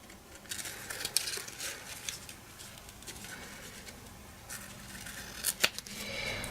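Scissors trim glimmer dots for a bottle topper craft, giving quick, faint snips and light crinkles spread across the stretch, close up with no voices.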